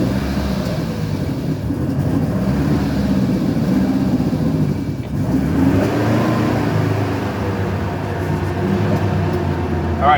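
A hot-rodded BMW 2002 drives in first gear, its engine droning and revving steadily throughout with a dense, loud low rumble and no pause.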